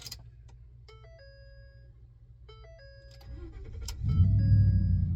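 A Ford F-150 pickup's engine cranks and catches, then settles into a loud, steady idle, preceded by several electronic ignition chimes and beeps as the key goes in.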